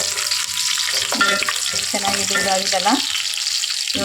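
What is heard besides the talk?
spice tempering frying in oil for bagara khana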